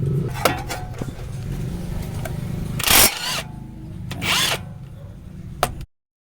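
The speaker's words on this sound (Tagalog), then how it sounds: "Tanggalin na natin itong castle nut to. 19mm yan." A 19mm castle nut on a Toyota Fortuner tie rod end is spun off with a power tool, giving two short whirring bursts, with metallic clicks and tool handling before and between them, close up and without speech.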